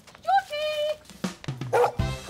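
A dog on a busy residential street gives short yips and a whimpering whine close by, mixed with people talking.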